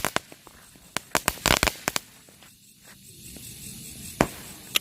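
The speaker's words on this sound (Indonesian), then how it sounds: "untuk yang selanjutnya kita nyalakan mercon Weko Color 7 warna. Ini yang 100 kali shoot guys." A Weko Color 7 warna firecracker cake, a 100-shot mercon, fires a rapid series of sharp pops and cracks, some tight clusters of bangs and a final loud crack, with open-air ambience between bursts.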